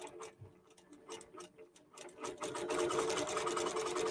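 A QBOT V3 quilting machine stitches an appliqué quilt, its rapid needle ticking faint at first, then growing louder and denser toward the end as stitching speeds up.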